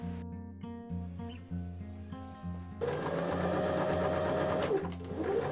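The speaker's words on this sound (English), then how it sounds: "I closed the center fronts by machine and ironed the lining in place" Sewing machine closing the center fronts of a velvet robe: short stop-start bursts of stitching at first, then a longer continuous whirring run, close and moderately loud.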